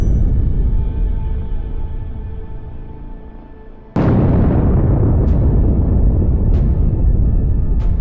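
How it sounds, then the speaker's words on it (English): A loud blast from drone strikes on Russian vehicles erupts midway through a steady rumble, followed by a dense roar and several sharp cracks spaced a second or so apart. "The entire area is covered in smoke after the drone explosions."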